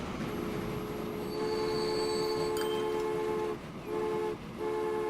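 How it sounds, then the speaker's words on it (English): Two trains pulling into a station at once in the game Transport Fever, a steady rumble of rolling wagons with long sustained wheel squeal tones throughout, briefly dipping twice near the end, with no talking. "we got 2 trains pulling into the station at the same time."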